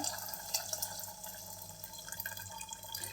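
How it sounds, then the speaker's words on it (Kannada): Water is poured into a pot of lentil sambar, a soft continuous splashing trickle heard close by and fairly quiet, with no talk. "ಈಗ ಸ್ವಲ್ಪ ನೀರು ಹಾಕ್ಕೊಂಡು"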